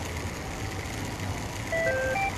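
A giant robot vacuum in the Yakuza 7 video game starts up in high power mode with a steady electronic drone and a few short melodic beeps near the end. No talk is heard.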